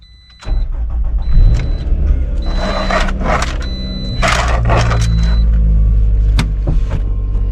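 A 2012 Toyota Matrix S car being started and slowly driven into a garage, its engine rising and holding a steady close hum, with clicks and mechanical clunks and no talking.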